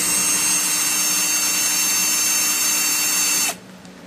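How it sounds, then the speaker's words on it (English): A cordless drill with a dying battery whines steadily at high speed for a few seconds, then abruptly cuts out as the motor stops. "Battery in the drill is dying."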